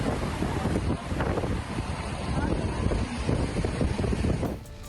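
Strong wind with heavy rain in Maros, South Sulawesi, buffets and roars steadily, rumbling loudly and continuously with gusting surges throughout.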